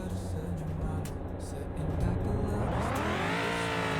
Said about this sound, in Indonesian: Kita dengerin dulu mesinnya ya.